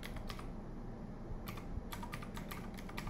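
Someone types a tag on a computer keyboard: quick, light keystroke clicks in short irregular bursts over a quiet room hum, close and clear.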